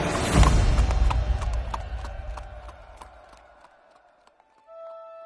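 A beautiful horse carries a rider into a village, hooves clip-clopping in a steady rhythm that starts loud and close and then fades as it moves away, followed by a short tonal chime.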